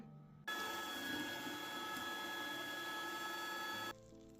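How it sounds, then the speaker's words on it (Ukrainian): An electric meat grinder minces lard with garlic and garlic scapes, giving a steady, close mechanical whir with a constant high hum. It starts abruptly, runs unbroken for about three and a half seconds, then cuts off. "Сало та часник подрібнемо через м'ясорубку."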